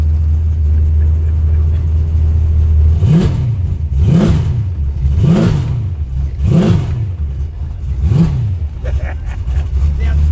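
A Ford XW GT with a V8 engine at Summernats 35, rumbling loudly up close, then revved five times in a steady rhythm, each rev rising sharply and falling back before the engine settles to a heavy idle.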